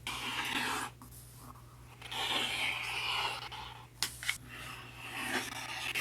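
Rotary cutter running along a ruler through quilt block fabric, a quiet close scraping and rolling swish in a few strokes with brief clicks, faint and without speech.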